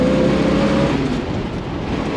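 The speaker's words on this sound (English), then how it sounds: "Love the sound of that small block V8." A 1965 Ford Mustang GT K-code's throaty small-block V8 roars loudly and steadily, its pitch shifting slightly as it revs, close by with no talking.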